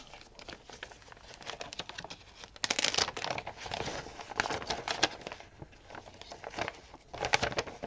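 A folded paper flip-out in a handmade journal is opened, giving close, crisp crinkling and rustling that swells and fades in uneven bursts, with no voices.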